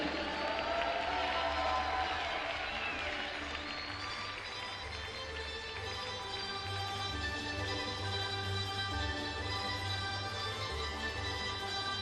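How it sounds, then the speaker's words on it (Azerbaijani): Broad crowd applause and cheering fills a gymnastics World Cup arena in Baku, steady and moderately loud throughout with a diffuse roomy wash. "Bütün media nümayəndələri alqış gəlsin"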